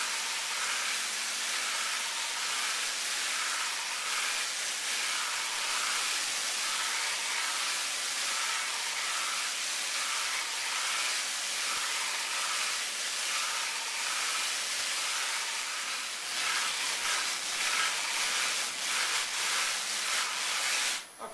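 A continuous, even hiss of sandpaper against a cherry wood hollow vase spinning on a lathe, holding steady for the whole stretch without pauses.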